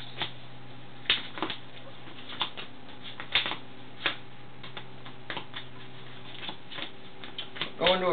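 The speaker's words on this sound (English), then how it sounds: "So we're shuffling up our decks." Pokémon trading card decks shuffled at a table, giving soft repeated riffling clicks and card snaps in irregular bursts over a low steady hum, fairly quiet and close.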